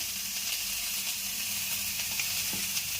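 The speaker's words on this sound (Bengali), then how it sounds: "এদিকে ফুলকপি ভাজা হচ্ছে" Cauliflower frying in a pan gives off a soft, continuous sizzle and hiss with faint crackles, steady and fairly quiet throughout.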